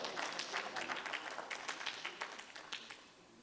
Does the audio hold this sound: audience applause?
yes